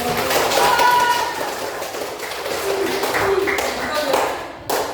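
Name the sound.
class applauding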